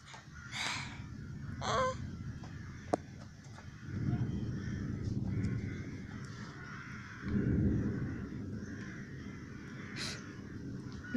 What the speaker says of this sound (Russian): Вон птички летят.